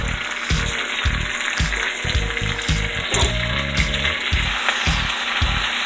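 Cabbage sizzles and fries in a big wok, a steady close hiss broken by repeated stirring scrapes and clatters.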